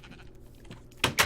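Two short, loud sheep bleats from the video game Minecraft sound close together at the end, after a quiet stretch.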